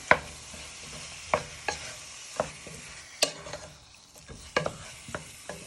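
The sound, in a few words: steak and kidney browning and stirred in a pan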